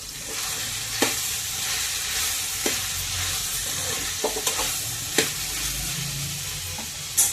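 Tomato and broad bean curry sizzles steadily in a pan while being stirred, with a soft continuous hiss broken by several sharp clinks and scrapes of the spoon against the pan.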